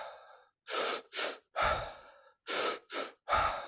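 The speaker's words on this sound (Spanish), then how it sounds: "Retoma la respiración." Rhythmic breathing during a guided breathing exercise: six strong breaths in quick succession, close and loud, in two groups of three with a short pause between, no talking.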